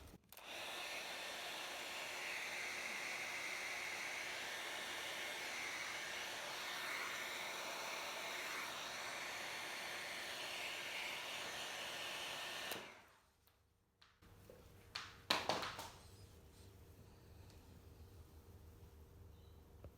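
Heat gun blowing to shrink heat-shrink tubing over guitar wiring, a steady close fan-and-heater whoosh lasting about thirteen seconds before cutting off, followed by a few faint handling knocks in quiet.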